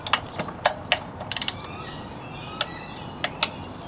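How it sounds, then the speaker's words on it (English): Torque wrench on a lawnmower cylinder head gives sharp ratcheting clicks up close, some in quick runs of three or four and others spaced singly. "Got the head torque to 17 foot-pounds."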